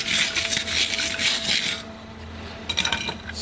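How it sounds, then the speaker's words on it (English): A stainless steel wire brush scrubs aluminium clamped in a vise, giving rough, rasping strokes that are loud and close for about two seconds, then a short pause before a few quicker scrapes. "I've got a stainless steel brush for cleaning the aluminium down."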